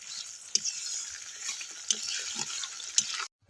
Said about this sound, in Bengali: সামান্য একটু জল দিয়ে দিচ্ছি এবার একটু নাড়াচাড়া করে ভালো করে মিশিয়ে নিচ্ছি সমস্ত কিছু